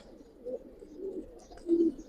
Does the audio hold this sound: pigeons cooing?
yes